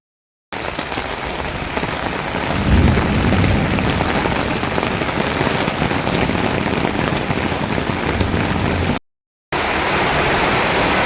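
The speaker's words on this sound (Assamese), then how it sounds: "সেইকাৰণেতো বৰষুণ দিছিল এ" Steady rain pours down in a dense, even hiss close around, loud and unbroken apart from a brief cut near the end, with no voices.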